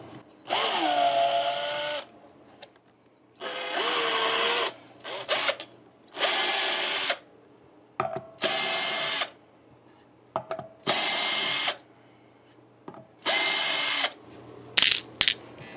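A power drill removes the screws from the back plate of an offset electric guitar in about seven short, loud whirring bursts separated by brief silences, recorded up close with no talking.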